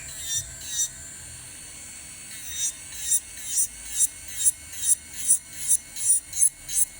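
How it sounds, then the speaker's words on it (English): A small electric nail drill removing polish from acrylic nails whirs in short repeated bursts, a rhythmic series of high buzzing strokes growing regular and closer together toward the end. "you're just going to drill off the polish"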